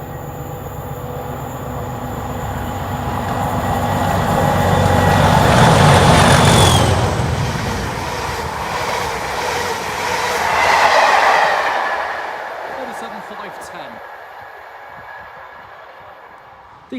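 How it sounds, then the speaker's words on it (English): An East Midlands Railway train passes by, a loud broadband rumble and rush that swells to a peak around mid-clip, surges again, then fades into quieter ambience with a brief spoken remark. "The 1310 East Midlands Railway service from Liverpool Lime Street to Peterborough."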